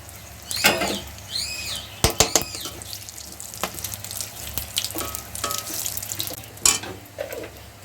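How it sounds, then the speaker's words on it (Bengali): Garam masala and dry red chillies tempering in hot oil for a vegetarian soybean dish. Sharp crackles and spitting pops burst out close up over a low, steady sizzle. "গরম মশলা ফোড়ন দিচ্ছি এখানে শুকনো লঙ্কা"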